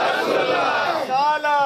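A large crowd at an annual religious gathering in Kangun Pur roars a slogan in unison, a loud sustained collective shout that ends with a brief swell.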